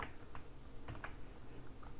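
Quiet typing on a computer keyboard, a loose run of light key clicks at an uneven pace, close and alone without talk.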